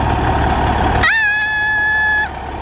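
A large family vehicle's engine rumbles loudly and steadily up close as it is moved to a new parking spot, with a high whining tone rising partway through and then cutting off. No one speaks.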